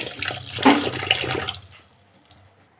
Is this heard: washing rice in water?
yes